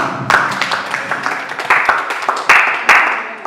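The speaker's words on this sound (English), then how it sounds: "Please, a round of applause" Scattered, uneven clapping from a talk show audience at a mental health event for World Health Day, sharp individual claps standing out over a thinner layer of applause, close and moderately loud.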